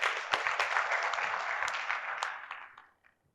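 An audience at a poetry gathering in Godhara claps together in a dense burst of applause that holds steady for over two seconds, then thins and fades out into silence.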